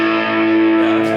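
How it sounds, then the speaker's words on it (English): Electric guitar played through a Boss Katana 50 amp on its crunch setting gives a sustained, lightly distorted chord that rings loud and steady with no voice over it. "we hit the crunch setting, which is more of a lighter distortion kind of a sound"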